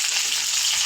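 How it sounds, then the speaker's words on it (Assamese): Onions fry in hot oil for a Malabar spinach stir-fry, a steady, bright, close sizzling hiss throughout with no talking. "লাই ভাজিবলৈ এয়া পিঁয়াজ দিছোঁ"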